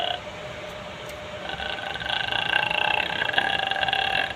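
A voice mimics an auto rickshaw engine with a buzzy, rattling drone that starts low and grows louder and steadier, close to the listener.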